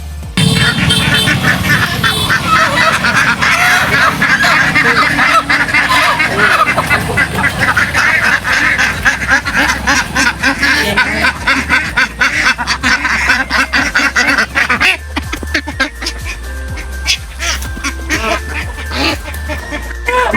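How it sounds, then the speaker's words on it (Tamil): Many ducks at a duck shop quack in a loud, dense, continuous chorus close by, with the flock noise thinning somewhat toward the end. "கைஸ் பாத்தீங்களா வாத்து?"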